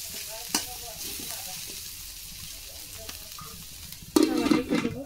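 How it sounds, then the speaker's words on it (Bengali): Vegetables frying in a pan, a low steady sizzle with occasional stir clatters, growing louder and busier near the end. "আমি এভাবে দেখে দেখে ভাজি করে নেব।"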